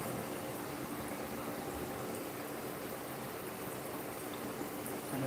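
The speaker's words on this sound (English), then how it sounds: "This is what we are frying here." Ripe plantain frying in a pan of hot oil while cooking beans sauce, a steady dense sizzle and bubbling that holds an even level throughout with no voices.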